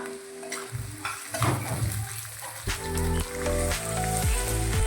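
Tomato and green chilli added to onions already fried red, frying and sizzling loudly in a pan with stirring clatter, steady and close throughout.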